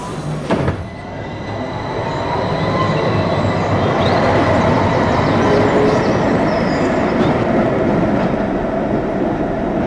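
Train in motion, a loud continuous rumble and rattle of rolling wheels building after a brief thump, with faint squealing tones over the steady roar.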